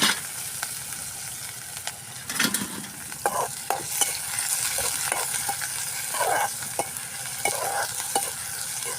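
Onion and green chilli frying in a pan for a chicken roll filling, a steady sizzle running throughout with repeated stirring scrapes and clicks over it, close and fairly loud, no talking.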